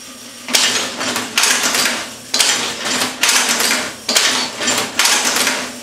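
A Bunn 16-inch string tying machine runs through repeated tying cycles, with loud clattering mechanical bursts about once a second over a constant motor hum.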